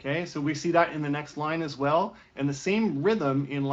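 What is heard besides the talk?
No everyday noise stands out behind the speech.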